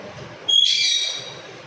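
A pet parrot gives a single bright, shrill call lasting under a second, close and clear over a quiet room.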